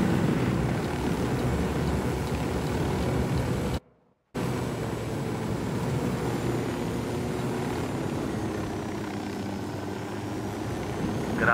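A cartel supply helicopter in a combat video game, its rotor and engine roar holding steady and loud throughout, broken only by a brief dropout of near-silence partway through.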